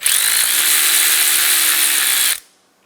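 A power tool with a 10mm socket whirs continuously for about two seconds while removing a nut from the positive battery terminal of a 2012-2016 Subaru Impreza, loud and close, then stops abruptly into silence.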